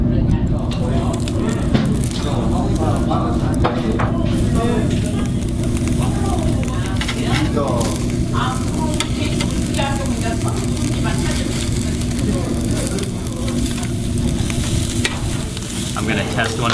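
Marbled Jangsu beef sizzles and flares from its fat on a charcoal grill at a Korean barbecue, a steady dense crackle running throughout with people chatting over it.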